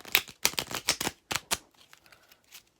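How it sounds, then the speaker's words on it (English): Quick bursts of riffling and flapping as playing cards are shuffled, several rapid rounds up close, then a few softer taps that fade out. "I am shuffling the deck of cards just to show you that it is shuffled"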